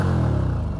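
Indian Scout motorcycle engine on stock exhaust pipes, a steady, loud, muffled low rumble held close by for under a second, with no talk over it.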